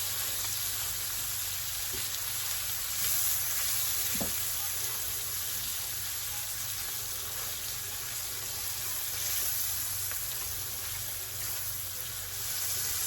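Garlic sizzling in a pan while being mashed, a steady, even hiss of frying with a faint hum underneath and an occasional small clink, with no talking over it.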